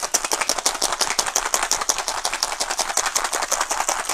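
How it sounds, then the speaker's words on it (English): Ice cubes, about six, rattle hard inside a lidded cocktail shaker for a mocktail. The rapid, steady rhythmic clatter is loud and close and continues throughout, with no voices. "Top on, lid on, and then give it a shake."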